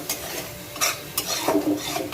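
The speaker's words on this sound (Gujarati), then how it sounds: "હવે લઈશું ધાણા જીરુંનો પાવડર અને લઈશું અડધી ચમચી ગરમ મસાલો અને એને પણ આપણે સરસ સાંકળી લઈએ." Ground coriander-cumin powder and garam masala being stirred into okra and potatoes frying in a pan: close, scraping stirs in several short bursts over a soft, steady sizzle, with no talking.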